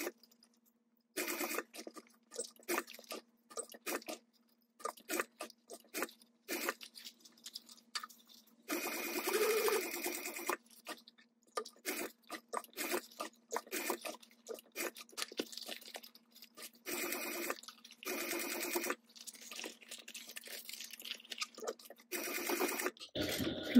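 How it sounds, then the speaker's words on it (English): Home sewing machine stitching back and forth over a strap connector on a fabric hydration pouch at a quarter-inch seam, close and moderately loud, in short bursts of rapid needle chatter separated by pauses. "I'm just backstitching over the connector."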